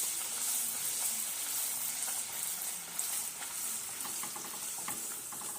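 Wheat-flour puris deep-frying in hot oil, a steady bubbling sizzle at moderate level with small crackling pops as the dough is pressed down with a slotted spoon.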